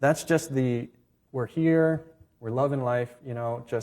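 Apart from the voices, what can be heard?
No everyday noise stands out behind the speech.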